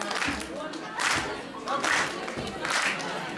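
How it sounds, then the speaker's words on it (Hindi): An audience at a college fresher party in Haripur, Manali, claps in loud rhythmic bursts roughly once a second, with crowd voices murmuring between the beats. "तालियां बजाइए।"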